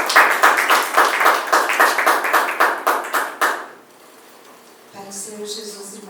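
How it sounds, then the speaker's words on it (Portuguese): Church congregation clapping in praise, a dense burst of rhythmic group applause for about four seconds that fades, followed by quieter room sound with faint voices. "Salva de palmas ao Senhor"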